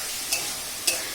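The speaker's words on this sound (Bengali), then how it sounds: "মশলাটাকে ভালো করে কষিয়ে নিলাম, বেশ সুন্দর করে অনেকক্ষণ ধরে বেশ কষিয়ে নিলাম" Garlic paste and spices frying in a pan for a spicy red chicken curry, a steady soft sizzle broken by two brief scraping stirs, close and alone without talk.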